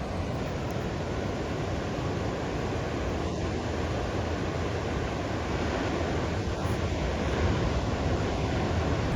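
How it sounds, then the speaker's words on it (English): Ocean surf pounds steadily onto the shore at South Carlsbad during rainy weather, a dense continuous wash of breaking waves with wind buffeting the microphone throughout. "look at these waves, guys. Look at these waves."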